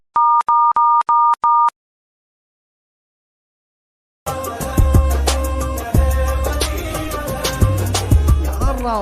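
Telephone keypad dialing in a comedy sketch: five quick, even beeps, then silence, then a louder, busy stretch of mixed sound that follows the call.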